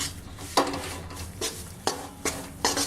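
A spoon stirs wheat flour and semolina roasting in a pan over a low flame, giving a series of soft scraping strokes that repeat about once a second, close and fairly quiet.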